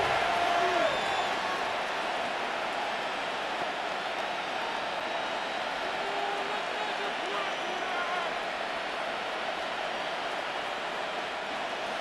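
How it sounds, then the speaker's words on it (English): Steady, dense crowd roar from a simulated Chicago Bears vs Cleveland Browns Madden NFL 26 game, building late in the fourth quarter before a third-and-long, loud and continuous throughout with faint whistles and calls mixed in. "The crowd cranking it up another notch before 3rd and long"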